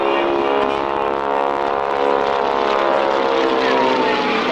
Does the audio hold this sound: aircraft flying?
yes